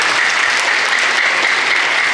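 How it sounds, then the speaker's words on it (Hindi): An audience at a stage event breaks into dense, loud applause. The clapping runs steady and close for a couple of seconds with no voices. "एक बार जोरदार तालियां इनके लिए होनी चाहिए।"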